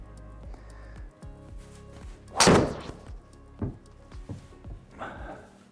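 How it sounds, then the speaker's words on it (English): Golf driver striking a ball off the tee on a course during a full swing: a single loud, sharp impact, followed by a few softer thuds and scuffs. "let's end this video with a good full shot"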